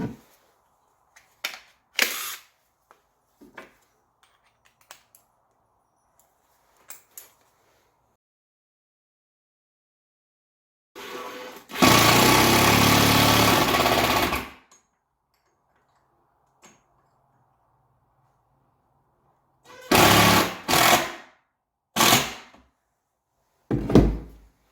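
Metal EMT electrical conduit being fastened with straps: scattered light clicks and taps, a loud rough burst lasting about three seconds, then several sharp close knocks near the end, with no talking.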